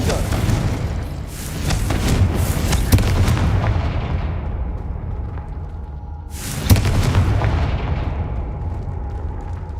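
Confringo explosive spell blasts going off in Hogwarts Legacy, two loud booming bursts with crackling decay, the second arriving after a lull, over continuous game ambience and music.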